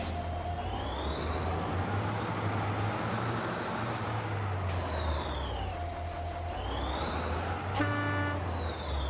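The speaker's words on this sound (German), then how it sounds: "Coole Hupe." A Kirovets K-700A tractor horn in Farming Simulator 22 sounds a long tone that swoops up and down in pitch, twice, over a constant low engine rumble.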